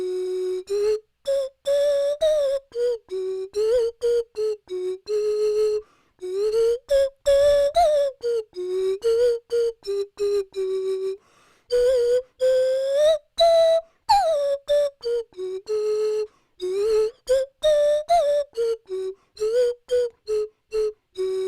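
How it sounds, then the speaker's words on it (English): A turkey baster blown into like a whistle, its chamber size changed to shift the pitch, gives a long run of short whistled notes that slide up and down in a lively rhythm, close and clear with no talking. "I blow into it and create a whistle, and then I change the size of the chamber in order to change the whistle"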